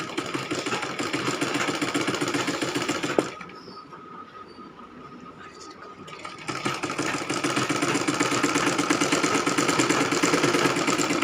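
A sewing machine stitches on paper with a bare needle and no thread, running as a fast steady mechanical rattle that stops for a few seconds partway through before starting up again.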